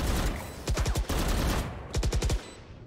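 Rapid automatic gunfire from a video game, two loud bursts of fast shots separated by a short pause, heard alone without talk.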